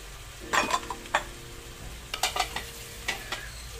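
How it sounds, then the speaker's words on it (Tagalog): Burger patty and ground meat sizzle in a frying pan with a steady hiss, broken by several sharp scrapes and clinks of a utensil against the pan. "Lutuin ko na rin yung burger dito sa kabila."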